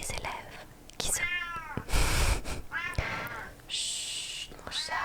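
A pet cat meows several times close by, short rising cries mixed with soft whispered talk in a quiet indoor room.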